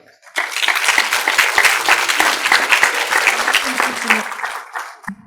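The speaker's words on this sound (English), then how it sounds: "Let's give Cheyenne a big round of applause" An audience at a humanitarian leadership conference breaks into applause, a dense, steady clapping that starts suddenly, holds loud for several seconds and tapers off at the end; a voice is briefly audible near the close.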